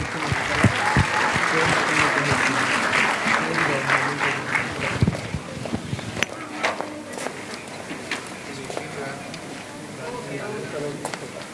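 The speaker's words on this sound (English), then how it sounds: "Let's give her a big round of applause." A seminar audience gives a student paper presenter a big round of applause: dense, steady clapping from many hands fills the room at an even level throughout.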